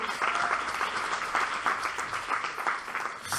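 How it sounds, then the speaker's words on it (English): An audience at a youth poetry slam in the Bronx claps and cheers in a steady, dense burst of applause that fills the room for a few seconds. "clap it up for the neighborhood"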